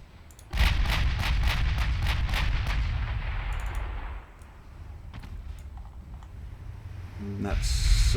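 A naval gun salvo from 16-inch guns fires in the warship game Ultimate Admiral Dreadnoughts: a heavy booming onset, then a string of sharp repeated blasts that fade into a low rumble. Another burst comes near the end.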